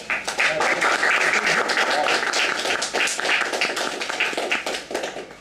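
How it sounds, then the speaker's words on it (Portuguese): Audience at a meeting applauding, a steady burst of clapping with some individual claps standing out. "Uma salva de palmas, pessoal."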